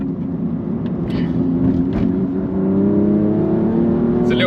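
A BMW M2 road and track build accelerates on the Swift circuit, its engine note close and loud and climbing steadily in pitch, with a few brief clicks and bumps over the top.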